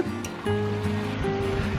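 Eddie the dog wades around in shallow water and kicks up continuous sloshing splashes close by, with a murmur of flowing water underneath.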